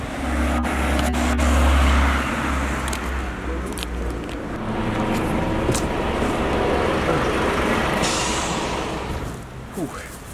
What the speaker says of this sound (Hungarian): Aztán most jövök és elérem a buszt.